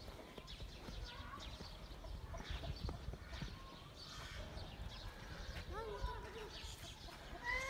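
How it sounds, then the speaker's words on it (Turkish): Chickens and a rooster cluck quietly in a backyard coop, giving a few soft, scattered calls over a low background hum, with muffled voices faint in the distance. "Orada, sizin horoz orada bak."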